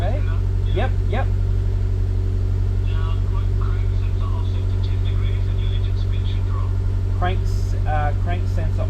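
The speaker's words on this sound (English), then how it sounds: "Engine speed dropped." Renault Clio 3 RS engine running steadily during ECU tuning, a constant low droning hum throughout with people talking over it and occasional clicks.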